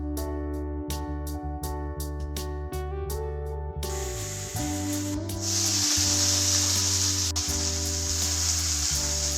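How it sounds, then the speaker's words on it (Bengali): Carrots and then cabbage stir-fried for vegetable chowmein, giving a steady close sizzle that swells louder partway through as the cabbage goes in, with a few tonal background sounds early on. "এরপর দিয়ে দেব গাজর, ভালোভাবে ফ্রাই করে নেব"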